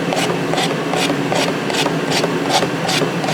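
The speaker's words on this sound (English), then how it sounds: "pick up the paint stick, dip it in the can, and scrape it on the edge of the cup like this" A paint stick is scraped against the edge of a cup during car bodywork priming, giving a steady series of about ten rasping strokes at an even rhythm, close and fairly loud, with no talk.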